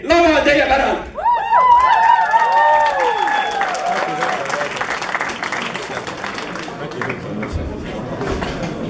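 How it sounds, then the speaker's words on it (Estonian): An audience at a school singing contest claps for the next performers. Dense, loud applause runs throughout, with voices ringing out over it early on before the clapping settles into a steady wash. "te kutsuksite suure ja palava aplausiga lavale järgmised esinejad"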